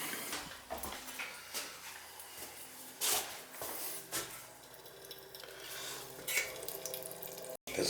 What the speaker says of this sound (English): I'm gonna open the water up, let it drain down here so I could work upstairs on the shower